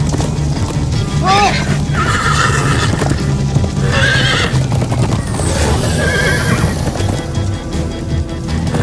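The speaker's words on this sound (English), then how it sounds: "Slow down, horse!" In the video game Minecraft: Story Mode, a horse whinnies several times over a steady run of galloping hoofbeats, loud and close, with in-game music and sound underneath.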